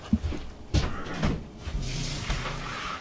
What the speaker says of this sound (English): just opened up the door to the pit maker